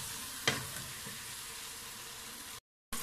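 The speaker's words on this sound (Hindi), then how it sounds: "अभी हमने आलू और मटर को इतना भूनना है कि ये ऑयल छोड़ दे" Potatoes and peas fry in oil with a steady, close sizzle, broken by one sharp clatter early on and a brief dropout near the end.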